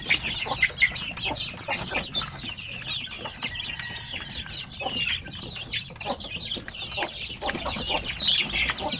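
Zampen native chickens clucking continuously, many overlapping close calls forming a busy, steady chorus of farm fowl with no talking.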